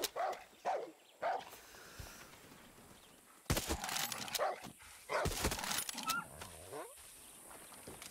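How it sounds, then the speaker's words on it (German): A dog barks in Far Cry 6, several sharp barks spaced irregularly, some close and loud, heard among gunfire-like bursts and game ambience with someone speaking quietly at times. "Böse Hund."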